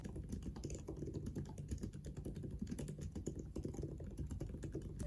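Fast, steady typing on the soft backlit Magic Keyboard of a MacBook Air M2, a quiet, close patter of light key clicks without pause.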